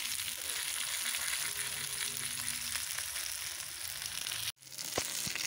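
Pieces of fish frying in a pan, giving a continuous close sizzle and crackle that holds steady, then briefly drops out before resuming more quietly with a soft clatter.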